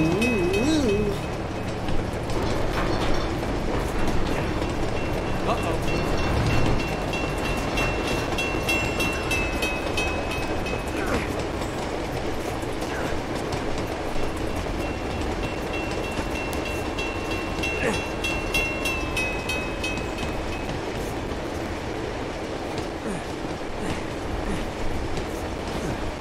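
Moving train in the video game Uncharted 2, a steady, loud rumble of rolling rail cars with clickety-clack wheel rhythm and occasional squeals, continuous throughout with no talk.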